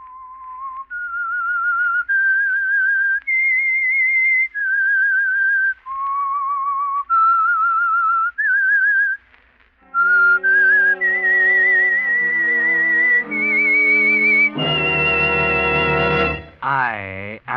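A lone whistled melody of held, wavering notes, the theme of the radio drama The Whistler, gives way to a brighter whistled phrase over sustained orchestral chords, ending in a rising flourish.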